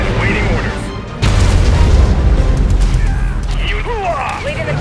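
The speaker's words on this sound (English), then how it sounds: "미사일 발사" Missile launch and explosion in the video game Command and Conquer Rivals: a loud rumbling boom rises and sustains with bursts and crackle, while unit voice lines play over it.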